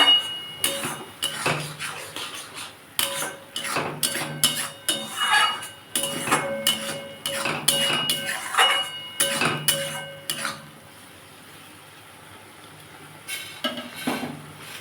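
Drumstick mash being fried and stirred in a pan over a lowered gas flame, with a busy run of metallic scraping and clinks from the utensil that then fades to a faint quiet hiss near the end.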